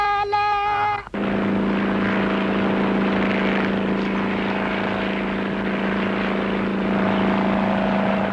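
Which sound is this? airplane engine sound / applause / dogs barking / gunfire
airplane engine sound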